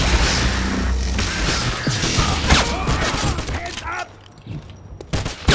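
Grenade blasts and crashing combat noise in the 2009 video game Wolfenstein, a dense, loud barrage of booms and impacts that thins briefly before another sharp burst, with faint voices underneath.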